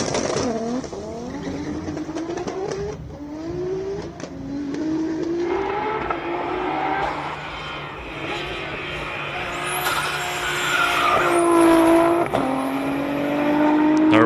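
Turbocharged race car at a hillclimb shootout, engine note rising and falling through gear changes, growing louder as it nears, with sharp whistling turbo tones and crowd or commentary voices underneath.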